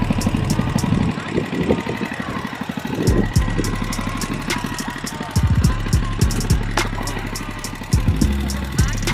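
A mini bike engine fitted with a diesel carburetor runs nearby at a lumpy, uneven idle with a pulsing rhythm, heard at a motorsport event with people talking over it.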